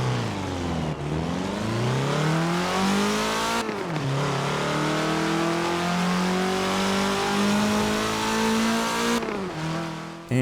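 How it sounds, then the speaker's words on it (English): A Porsche 944 Turbo engine revs up repeatedly in a Forza video game, pitch climbing steadily with brief drops at gear shifts, loud and continuous. "let's take the 944 Turbo out for a test drive"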